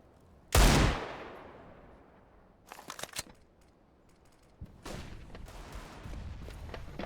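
Pistol gunfire in a professional Counter-Strike match: one loud close shot with a trailing echo, then a cluster of quicker, fainter shots, followed by more distant shooting and game noise.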